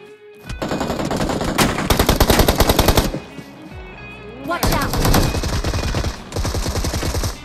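Automatic gunfire from a spray in BGMI (PUBG Mobile) comes as loud, rapid bursts of shots, with a short pause in the middle before the shooting starts again.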